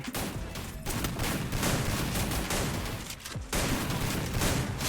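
Gunfire fills a Free Fire battle, a dense, sustained volley of rapid shots at moderate volume that runs almost without a break, dipping briefly before surging again, with no one talking.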